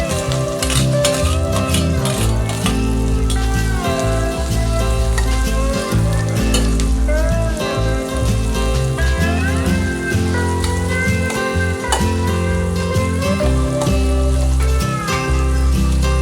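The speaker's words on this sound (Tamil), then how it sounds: "அடுத்து நறுக்கி வச்சுருக்க வெங்காயத்தை போட்டு நல்லா வதக்கிக்குவோம்." Chopped onions sizzle and crackle steadily in a hot pan for pepper chicken, loud and close, with a tuneful background sound running underneath.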